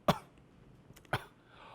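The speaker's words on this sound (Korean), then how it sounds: "우리가 한번 헛기침을 해보세요" Two brief, sharp throat-clearing coughs, spaced about a second apart, fairly quiet with near silence around them.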